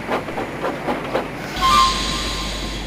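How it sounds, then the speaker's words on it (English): A cartoon steam engine runs along rails with a soft rhythmic clatter, then a louder rumbling hiss and a faint squeal take over near the end, brief and close. "He was still fuming as he bucketed along the rails."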